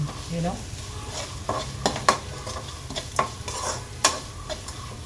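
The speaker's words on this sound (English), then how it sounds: "stir well and allow it to become transparent" Chopped onions sizzle in a frying pan while a spoon stirs them, with quiet frying under repeated sharp clicks and scrapes of the utensil against the pan.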